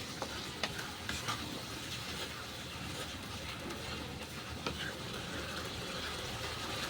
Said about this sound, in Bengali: এই সমস্ত মশলাগুলো ভালো করে কষিয়ে নেব যতক্ষণ না এই মশলা থেকে তেল ছাড়ছে